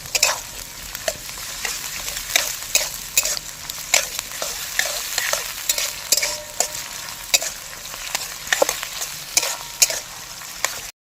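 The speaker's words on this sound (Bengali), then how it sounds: "ওই যে রসুনটা দিয়ে দিচ্ছে আর তার সাথে দিয়ে দিচ্ছি আমি আদা রসুন বাটা" Garlic and ginger-garlic paste fry in a pan, a steady sizzle broken by repeated, rhythmic scrapes of a spoon stirring close by.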